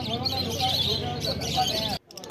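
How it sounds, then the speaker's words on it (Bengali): Lovebirds at the Garia bird market chirp in a dense, overlapping chorus of bright tweets and calls that stays loud and busy for about two seconds before cutting off abruptly. "এখানে দেখতে পাচ্ছ যে লাভবার্ড পাখিগুলো আছে"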